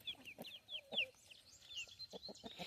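Young chickens cluck and peep softly at close range while pecking at chickweed, a quick scatter of short chirps and low clucks, quiet and unhurried.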